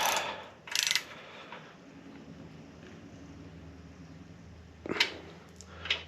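Ratchet snugging the mounting bolts of a 19-inch Windsplitter windshield on a 2024 Harley Fatboy, giving a few short bursts of clicking near the start and again around the end, with quiet gaps between.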